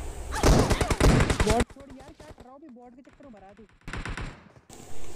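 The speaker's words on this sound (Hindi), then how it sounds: "इतने में सामने वाले घर से फायरिंग आ जाती है" Bursts of automatic gunfire in the BGMI (PUBG) battle royale game, loud rapid volleys at the start and again near the end, with someone talking in between.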